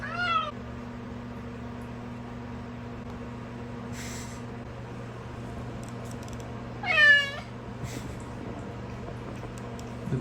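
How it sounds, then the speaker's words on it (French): Two cats meow indoors in a few separate calls, one early and one louder yowl later, over a steady low hum and faint background noise. "Depuis qu'on est arrivé, il lâche pas de miauler les deux, là."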